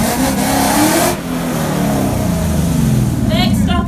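A Ford Mustang fitted with a Roush hood scoop revs at a Mustang tour gathering at Sherborne Castle, giving a loud, sustained engine roar close by throughout, with other voices faintly behind it.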